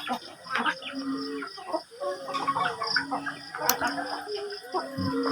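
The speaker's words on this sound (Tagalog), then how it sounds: "pakain naman tayo ng mga pato at yung mga Rhode Island chicken." Rhode Island chickens and ducks feeding at a rural farmyard, with clucking and scattered fowl calls over a busy, continuous mix of animal sounds at moderate distance, along with faint background voices.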